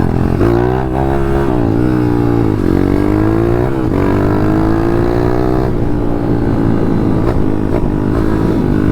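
A 150 RXF motorcycle with a sticking piston rides along, its engine revving up and down in repeated rising pulls, loud and close, running continuously with no talk.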